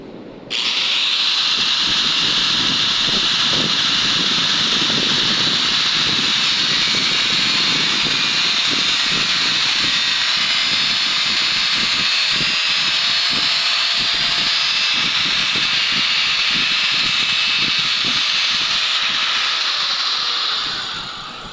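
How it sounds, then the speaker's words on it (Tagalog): Angle grinder cutting through material, one continuous loud, close whine with a hissing edge that holds steady for about twenty seconds before winding down at the end. "Grinder, putol muna tayo"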